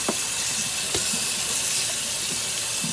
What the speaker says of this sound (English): So you're just gonna rinse out your corn.